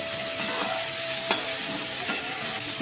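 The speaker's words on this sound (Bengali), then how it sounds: "ফুলকপি আলুর তরকারিটাও বসিয়ে দিয়েছি ভাজা ভাজা করে নিচ্ছে" Cauliflower and potato curry fries in a wok, a continuous close sizzle with a few scraping stirs, no voices.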